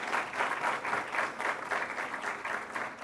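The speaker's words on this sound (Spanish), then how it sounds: "Un fuerte aplauso para él, por favor." An audience claps loudly and steadily for a guest being introduced, the applause sustained and dense throughout with no speech over it.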